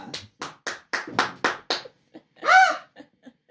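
A short run of seven crisp, close hand claps at a steady rhythm, followed by a brief laugh and a couple of faint taps.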